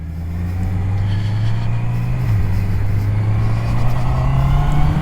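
A Honda CB650R four-cylinder motorcycle engine with E-Clutch drones steadily from up close while riding, its pitch climbing gradually with the revs and dipping briefly midway.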